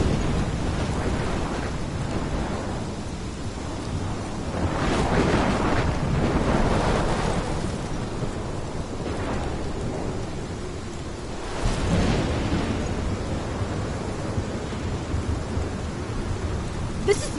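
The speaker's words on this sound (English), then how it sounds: "This is my storm." Thunderstorm in the video game Life is Strange, heavy continuous rain and gusting wind, with deep thunder rumbles swelling in waves, loud and enveloping throughout.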